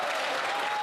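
Applause in a parliamentary chamber, a dense, steady burst of many hands clapping at once, brief and moderately loud.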